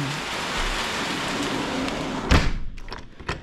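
Heavy rain on a rainy morning pours steadily as a dense, continuous wash, with a louder thud and splashy bursts near the end.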